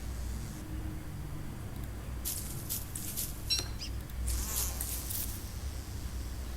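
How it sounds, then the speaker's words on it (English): Bees buzz steadily in the video game Don't Starve, a soft insect drone over low ambient noise, with brighter bursts of buzzing swelling in the middle and again near the end. "There's few bees around here over there."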